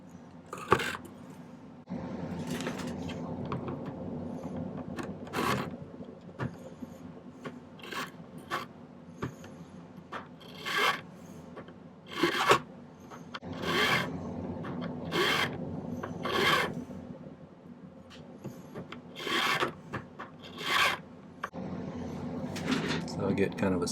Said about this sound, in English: What I'm going to do is file it flatter there so it's kind of stepped down